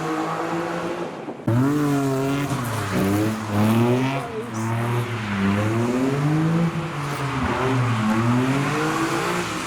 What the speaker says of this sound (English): It now sounds like someone has just done a burnout.